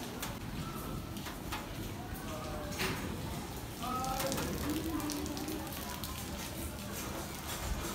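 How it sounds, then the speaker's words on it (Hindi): Heavy rain hisses steadily on surfaces nearby in Delhi, with a few faint clinks and distant sounds layered over the constant downpour. "बारिश बहुत जोर की हो रही है"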